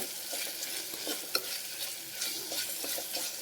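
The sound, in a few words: ginger garlic paste frying in a pan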